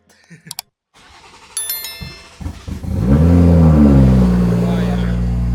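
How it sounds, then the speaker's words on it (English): Car engine cold start: a few clicks and cranking bursts, then the engine catches and revs up loudly before settling into a high, steady fast idle, recorded close. "Cold start."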